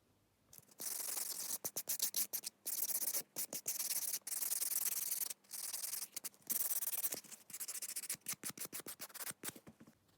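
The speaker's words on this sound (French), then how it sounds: "je vais prendre un bloc à 4 faces et je vais venir griffer l'ongle" A four-sided buffing block scrubs across a fingernail during an acrygel nail application, giving close, dry rasping strokes in quick bursts separated by short pauses, with no talk.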